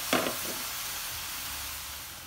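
Meat hits a hot pan for gobhi gosht, a brief bright splash of sizzle followed by a steady soft frying hiss that gradually fades, close and fairly quiet with no talk.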